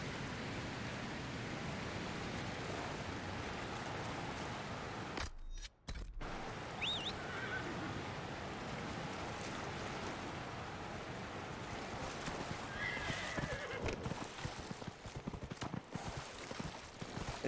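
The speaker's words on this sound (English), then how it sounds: "It's a Ferelden horse from Redcliffe." Hooves of a Ferelden horse from Redcliffe clip-clop steadily in Dragon Age: Inquisition, set against a constant wash of ambient wind and rain-like noise, with a brief dropout partway through; no clear neigh stands out.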